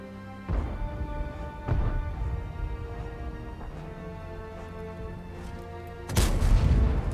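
KV-3 Soviet heavy tank's main gun firing in a video game, three loud booms spaced a few seconds apart, the last one heaviest, over a low engine hum with no talk.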